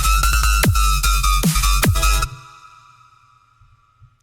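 A harsh, screeching synth bass patch built in Serum on a custom wavetable plays loud, rhythmic stabs with sharp pitch drops, then cuts off and leaves a faint decaying ringing tail.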